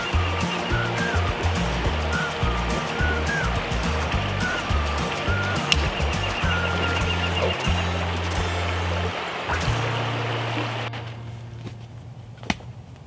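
A clear Texas river flows with a steady rushing wash, close and fairly loud, while birds call faintly in the background; the water sound thins and drops off near the end.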